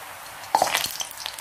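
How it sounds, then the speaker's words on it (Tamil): Pottukadalai murukku dough dropped into hot oil sets off a sudden, close, bubbling sizzle that crackles on for about a second after a quiet start. "நல்லா இந்த சலசலப்பெல்லாம் அடங்கி நமக்கு வரணும்."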